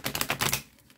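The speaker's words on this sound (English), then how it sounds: "Two more shuffles." Tarot cards riffled in a quick shuffle, a crisp rapid patter of flicking card edges close by that fades out.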